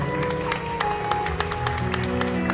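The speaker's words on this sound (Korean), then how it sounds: "다시 한번 축복의 박수로 부탁드리도록 하겠습니다" Guests at a wedding hall ceremony clap in blessing, scattered hand claps ringing out over background music, moderate and somewhat sparse.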